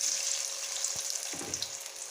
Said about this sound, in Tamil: எடுத்து கொதிக்கிற எண்ணெயில் நீங்கள் போட்டுருங்க.